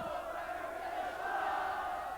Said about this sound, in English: a crowd of Magpies supporters were rubbing it in